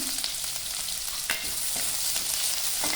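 Chopped onion and curry leaves sizzle in hot oil with a mustard seed tempering, a steady bright frying hiss broken by a few sharp crackles and stirring scrapes, close and without talk.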